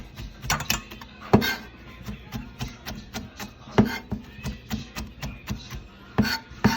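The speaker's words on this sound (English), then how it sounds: "We're gonna finish that with a rough chop" Knife rough-chopping finely cut fresh parsley on a cutting board for a crab cake mix, a steady series of close, sharp taps and thuds with uneven rhythm.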